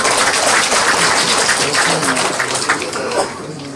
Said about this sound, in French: Je demande à applaudir pour tous les Bacham qui sont là